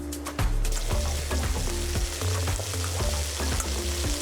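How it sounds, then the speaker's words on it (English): Loud, steady sizzling of beef frying in hot oil, with scraping and stirring clatter from a utensil throughout, close up and no talking. "Sizzle time."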